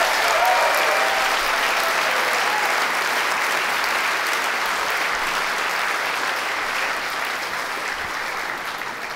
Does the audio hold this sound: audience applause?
yes